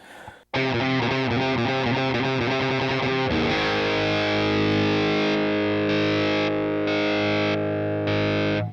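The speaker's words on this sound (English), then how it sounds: "Our first mod is a light compressor. It just adds a little bite to the tone." Electric guitar through a Boss Katana MK amp with a light compressor adding a bit of bite: a quick picked phrase, then sustained chords ringing evenly, loud and close with no talking.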